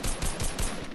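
Rapid gunfire in a battle royale video game, a burst of loud repeated shots filling the whole second with no talk.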